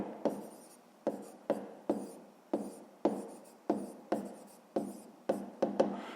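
Pen or pencil writing by hand on paper for a fifth-grade math exercise, a series of short close scratching strokes in an uneven rhythm, each stroke starting sharply and fading, with no talk.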